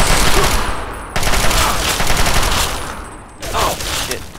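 Sustained automatic gunfire in the video game Fallout 3, a dense rattling fusillade that carries on in bursts with brief breaks between them, loud and close.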